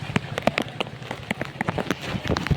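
Heavy rain in Jamnagar lands in quick, uneven drops and splashes on nearby surfaces, an irregular close patter with no steady background roar.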